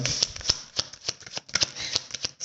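A deck of oracle cards is shuffled by hand in quick, uneven riffles and flicks, crisp and close, with no talking over them.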